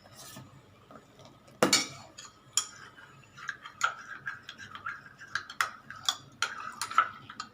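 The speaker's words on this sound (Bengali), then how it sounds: "এটা ভালো করে ঘুটে নিচ্ছে" A spoon stirring milk in a metal pot for malai kulfi: sparse, quiet metallic clinks and taps in an uneven rhythm, one sharper knock early on, close by and with no talking.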